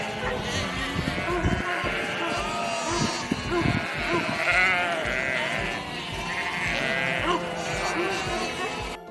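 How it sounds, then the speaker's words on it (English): Sheep bleat repeatedly on a farm, their wavering cries overlapping at close range, with a voice talking underneath the calls. "Sheep have thick, woolly coats."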